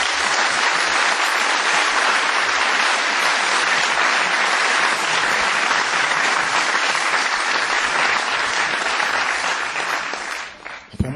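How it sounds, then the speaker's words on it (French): A large audience at a stage performance breaks into loud, dense, continuous applause that holds steady for about ten seconds before thinning out at the end, with no talk over it. "Je voudrais que vous applaudissiez."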